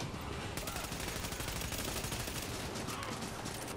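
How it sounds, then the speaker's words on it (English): Rapid pistol gunfire in the video game The Division, a fast, close string of sharp shots rattling off almost continuously at high volume. "Rapid fire pistol action."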